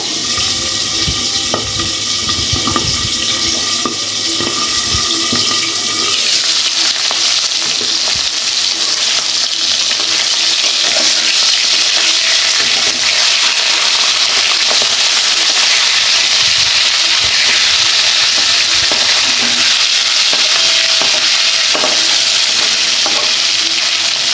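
Onion frying in hot oil in a pan, a loud, steady, continuous sizzle and crackle with occasional stirring, heard up close without any talk.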